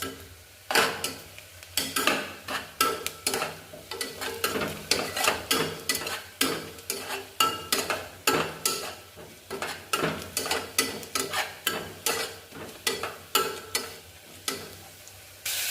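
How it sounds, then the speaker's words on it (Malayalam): Tomatoes and onion sautéing in oil in a pan, stirred with a metal spoon that scrapes and clatters in a fast, uneven rhythm over a soft sizzle, close up and with no talking. "അപ്പോൾ തക്കാളി ഇട്ട് ഇങ്ങനെ വാട്ടിക്കൊണ്ടിരിക്കണം."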